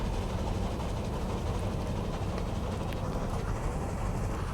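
A train rolls along in the Roblox game Dead Rails, a steady dense rumble with faint rail clatter running evenly throughout, no voices.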